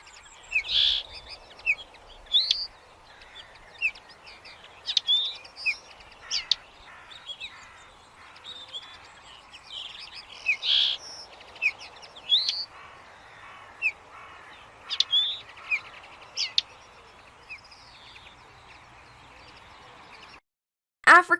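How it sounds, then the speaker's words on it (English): A linnet sings in the open, delivering short twittering phrases at irregular intervals against a soft background hiss, fairly close and clear, ending with a brief cut. "Linnet"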